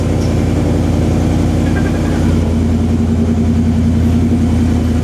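Ford F-150 pickup being lowered, its engine running at a loud, steady rumbling idle close by, with a slight rise in revs partway through.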